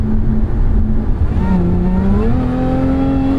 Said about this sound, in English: really slow downshifts there